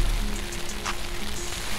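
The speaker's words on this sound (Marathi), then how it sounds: "पाऊस पडतोय" Rain falls on a camping tent at Harishchandragad, a steady dense hiss of drops with a continuous low rumble, constant and close throughout.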